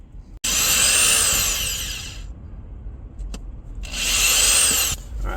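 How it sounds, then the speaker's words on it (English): A power drill drives screws into wood while fitting hinges to a nightstand, two loud whirring bursts of about two seconds each, separated by a short pause with a click and some handling noise. "drill the holes and then drill the screws in"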